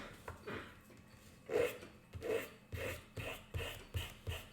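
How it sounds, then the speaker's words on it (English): Folded sandpaper is worked over a wooden violin bow in about seven steady back-and-forth strokes, each a soft, close rasping swish, with no talking. "My violin making teacher, Chuho Lee, he talked about sandpaper as, think about it as a tool, not, not as, you're not rubbing something, you're cutting something"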